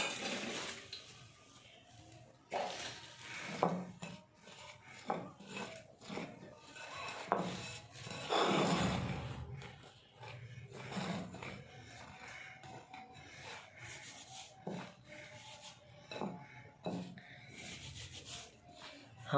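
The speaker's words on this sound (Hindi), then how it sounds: "हम आटे को हथेली पर इसलिए मसल लेंगे ताकि जो घी डाला था उसकी गुठलियाँ ना बने" Hands rub and crumble flour dough with desi ghee and salt for a chilli paratha, giving soft, repeated dry scraping strokes at an uneven rhythm, fairly quiet and close, with faint background voices.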